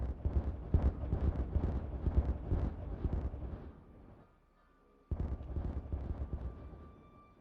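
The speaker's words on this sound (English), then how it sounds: "Nothing like a good explosion." Dynamite goes off in the video game Timberborn, with a loud, dense rumbling blast that rolls on for several seconds and fades almost to silence, then a second heavy rumbling burst starts abruptly.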